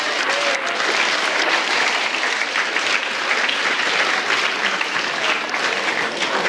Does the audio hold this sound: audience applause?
yes